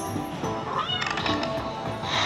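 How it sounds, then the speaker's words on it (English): Cat meows and caterwauling from a slot machine game ring out over a busy casino-style background of electronic chimes and jingles, lasting a couple of seconds. "the cat's doing something up there"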